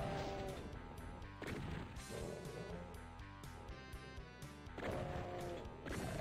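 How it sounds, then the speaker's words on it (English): Shotgun blasts from the video game Ultimate Doom, several sharp, punchy bangs scattered across loud driving game music that stays in the foreground. "I take more than 2 shotgun shots."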